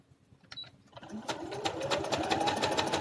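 Sewing machine running steadily as it stitches fabric strips, a rapid mechanical clatter that starts softly and builds, with brief handling noises at the start.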